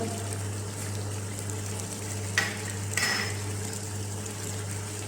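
Tomatoes cooking with spices in a pan give a soft, steady sizzle over a low background hum, broken by two brief scraping stirs near the middle, with no speech.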